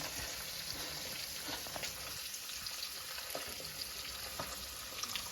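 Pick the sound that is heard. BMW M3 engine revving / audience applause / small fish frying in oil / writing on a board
small fish frying in oil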